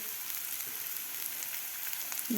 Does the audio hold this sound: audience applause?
no